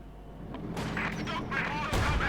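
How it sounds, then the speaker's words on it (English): Light artillery firing in the Company of Heroes 2 war game: heavy booms and blasts over a dense rumbling battle background, loud and continuous. "Light artillery."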